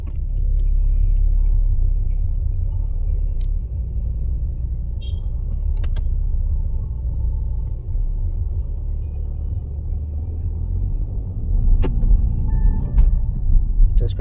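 A 2013 Audi A6 Premium Plus in mint condition drives on a test drive, its steady low engine and road rumble filling the cabin with a few faint clicks and a slight swell near the end.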